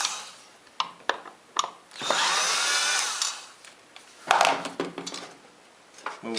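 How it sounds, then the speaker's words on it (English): Two screws are backed out of a wooden box joint jig with a power driver, giving a longer whirring burst and then a shorter one, close by, between quieter taps and handling noises. "Now I can go ahead and unscrew the 2 screws we put in the jig before."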